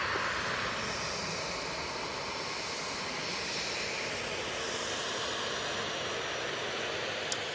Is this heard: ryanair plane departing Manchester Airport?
yes